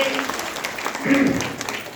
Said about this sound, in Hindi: जोरदार तालियां पूरी सदन में जुड़नी चाहिए